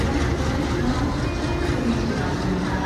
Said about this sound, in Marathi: मित्रांनो आपली ट्रेन आलेली आहे